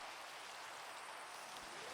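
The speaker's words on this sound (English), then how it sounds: "And it's raining." Rain falls in a Minecraft survival game, a soft, steady hiss held throughout with no talk over it.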